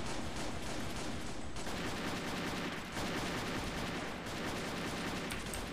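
Rapid gunfire in a Minecraft GTA-style shooting range game, dense bursts of automatic shots close and loud, continuous with brief pauses, with no talking.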